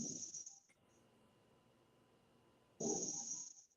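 A sleeping man snores, two loud rasping breaths with a hissing edge, one at the start and one near the end, separated by a quiet pause with faint background hum.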